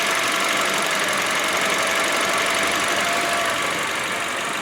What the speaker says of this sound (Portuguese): Que ele dá uma leve baixada na rotação querendo apagar.